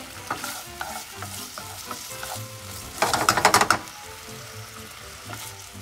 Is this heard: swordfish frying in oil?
yes